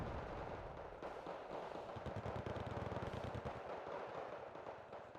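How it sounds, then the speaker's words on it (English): Tanks firing on APCs in the war strategy game Wargame: Red Dragon, a rapid cluster of muffled gunfire and cannon bursts, steady and moderately distant. "they get sniped by a couple of tanks in their APCs"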